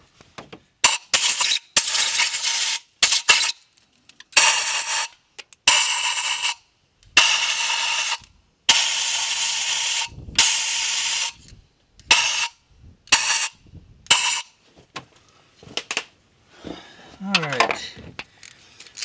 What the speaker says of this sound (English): get some compressed air and blow them out real quick